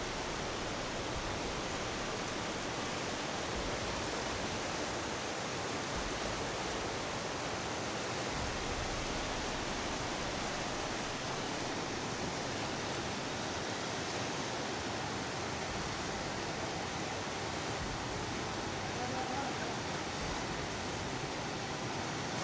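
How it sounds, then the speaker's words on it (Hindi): Rushing water of the Neelum River near Muzaffarabad, a dense, steady broadband roar that stays loud and unbroken throughout, close by, with no voices. "यहाँ पानी की खूबसूरत आवाज़ आप सुन सकते हैं"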